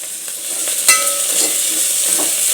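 Spices for jeera rice fry loudly in a pan with a steady close sizzle, punctuated by a few light stirring scrapes and clinks.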